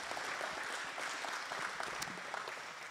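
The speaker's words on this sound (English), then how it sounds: "Let's give them a round of applause" Audience at a public meeting on chronic wasting disease in Fayette County giving the panelists a round of applause: steady, fairly quiet clapping with a few sharper individual claps standing out, no talk on top.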